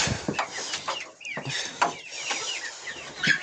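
Two crested roosters, a white rooster and seven hens cluck and chatter close by in quick, overlapping bursts, with short squawks scattered throughout.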